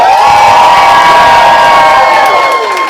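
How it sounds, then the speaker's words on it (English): A roast battle comedy show audience roars with cheering and shouting, a loud, sustained crowd din with whoops and piercing high-pitched yells throughout. "if you think the winner was Brandon Ness, clap your hands"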